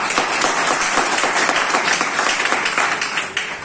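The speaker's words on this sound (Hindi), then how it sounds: "एक बार ताली बजा दो सर" An audience at an award function in Bareilly claps steadily and densely, a loud wash of many hands close by that keeps up throughout with no break.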